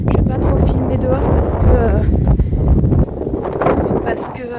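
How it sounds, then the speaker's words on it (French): Strong gusting wind buffets the microphone outdoors with a loud, rumbling roar that swells and dips, while a person talks under the noise. "Donc vous allez entendre le bruit du vent."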